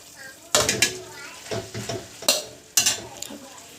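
Metal scraping and clattering in a pan as chow mein noodles are stirred while frying, in several loud bursts over a soft sizzle, with a voice talking faintly in places.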